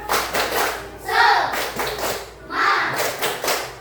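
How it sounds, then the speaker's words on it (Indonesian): A school class claps together in a steady rhythmic cheer, bursts of clapping rising and falling with voices chanting along in Indonesian, close and lively. "Tepuk semangat."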